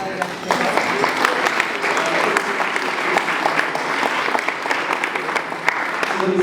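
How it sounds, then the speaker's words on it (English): Wedding reception guests applauding after a toast, a steady wash of clapping from a sizeable crowd that carries on for the whole stretch, with a few louder claps standing out near the mic. "We're going to have a round of applause for Mike, please."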